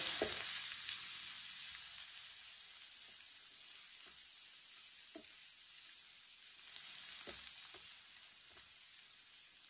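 An omelette cooks in a pan on the stove with a steady, even sizzle and a few faint scrapes and clicks, quiet and unbroken throughout.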